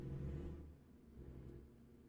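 A heavy truck's diesel engine in American Truck Simulator drones low and steady, a louder rumbling stretch at first that settles into a quieter, even hum.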